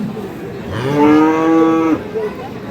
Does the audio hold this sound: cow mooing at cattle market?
yes